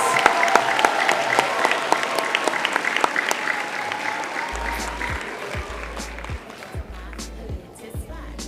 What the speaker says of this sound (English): Let's give another round of applause for the students.